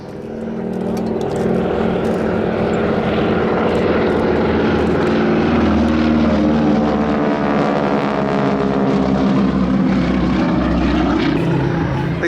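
A Super Stearman wingwalking biplane with an upgraded engine roars past at an air show, its propeller tips going supersonic to give a harsh, rasping buzz that swells loud and holds steady.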